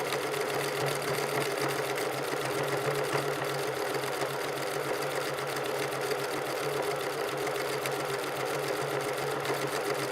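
A sewing machine runs steadily while stitching a circular seam, its continuous mechanical whir and rapid needle chatter holding an even level throughout with no pauses or talk.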